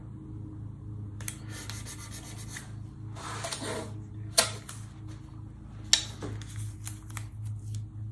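Double-sided tape being pressed down by hand, heard as several short rubbing and smoothing strokes over a low steady hum, with a couple of sharper taps.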